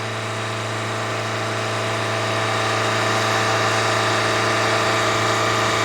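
A Toyota Corolla engine with a lean P0171 condition runs steadily close by, a continuous even drone that swells only slightly in loudness toward the end, with no voices.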